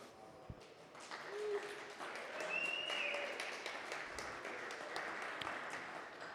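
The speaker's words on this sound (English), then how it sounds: "Please have a round of applause." Audience applause for volunteers at a SecDSM security meetup, a steady moderate patter of clapping that fills the room for several seconds, slightly distant and even.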